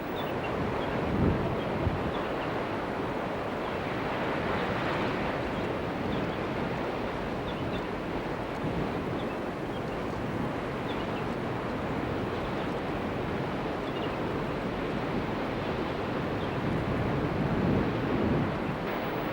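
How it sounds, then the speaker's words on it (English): Steady, dense rush of falling water from a large cascade in misty mountains at about 7,000 feet, a continuous broadband roar with no talk. "A majestic sight is this cascade of water we drove past."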